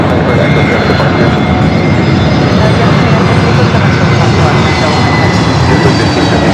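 A jet aircraft roars during takeoff at Los Angeles International Airport, a loud, steady, broadband engine rush that fills the whole stretch, with people talking over it.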